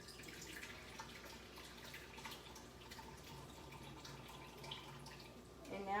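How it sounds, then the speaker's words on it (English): Liquid poured from steamed ground beef into a bowl, a faint trickling and dripping stream under low room noise, ending in a brief louder clatter. "I'm just gonna pour it into this bowl."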